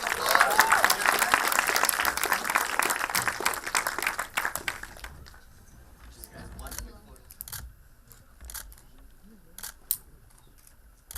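Audience applause at a press conference for the film Shivaay, a dense burst of clapping for about five seconds that fades into scattered claps and faint room noise.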